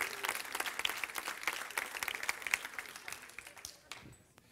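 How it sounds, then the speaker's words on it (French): A church congregation applauds during a French-language service, dense clapping rolling on for about four seconds, fairly distant and even, then thinning out to scattered claps at the end. "C'est pas moi que vous applaudissez, c'est le Dieu qui vous bénit avec toutes ces choses."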